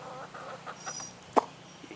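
A hen clucks softly amid outdoor background noise, with one sharper, louder cluck near the middle.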